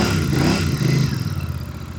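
A Royal Enfield Bear 650 motorcycle engine runs close by, a loud, steady mid-pitched drone with a slight rev rising and settling over two seconds.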